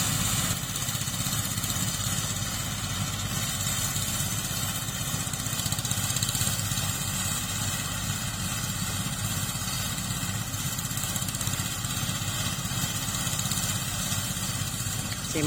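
A rice thresher powered by a D12 engine runs steadily, with a continuous close, rough, chugging drone that holds the same level throughout and has no talk over it.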